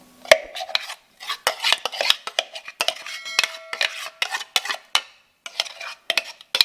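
Chicken seasoned with blended garlic is stirred and tossed in a bowl, giving irregular wet scraping and clinking of a utensil in quick, uneven strokes, close and fairly quiet with no talk.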